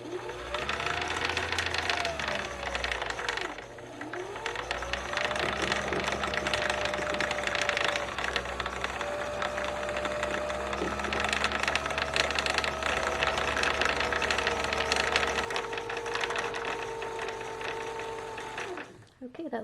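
A sewing machine winds a bobbin with a steady whirring hum that runs for about fifteen seconds, then stops, with a faint ticking mechanism underneath.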